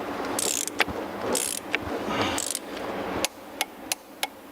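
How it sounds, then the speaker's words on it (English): A torque wrench tightening a wheel spindle nut to 50 foot-pounds as the wheel is rotated, giving loud, close ratcheting clicks in bursts with scraping, followed by several sharp separate clicks. "we're going to tighten this thing up while we rotate it to 50 foot-pounds"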